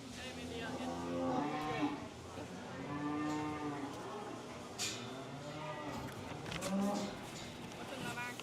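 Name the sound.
cattle mooing in show ring, cow-calf pair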